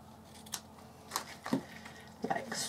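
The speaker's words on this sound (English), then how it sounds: "So if I cut it in the middle" Scissors snip through material for a wedding shoe craft project, giving several quiet, close, separate cuts with short pauses between them.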